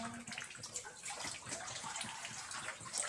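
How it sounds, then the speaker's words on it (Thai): Water trickles and seeps from rock inside a cave on Khao Chai Son in Phatthalung, a steady close splashing flow running throughout with no talk over it. "โอ้นี่น้ำไหล"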